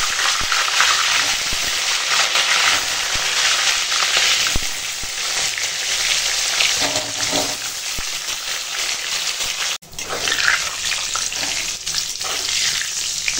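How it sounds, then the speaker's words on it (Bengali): Pointed gourd fries in oil in a wok, giving a loud, steady, close sizzle with occasional stirring clatter. The sizzle dips briefly partway through, then carries on. "দেখো এখন পটলগুলো ভাজা হয়ে গেছে"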